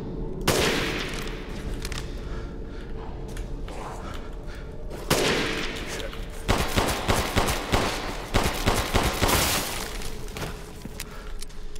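Heavy gunfire in the survival horror game Resident Evil Village: sharp close shots and rapid bursts fire in clusters, with thuds and impacts mixed in and short gaps between volleys.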